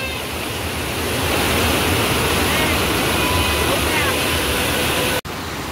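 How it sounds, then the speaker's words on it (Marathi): Rushing water pours over a full dam in a loud, unbroken roar of broadband noise that holds steady nearly to the end. "जबरदस्त पाणी आहे."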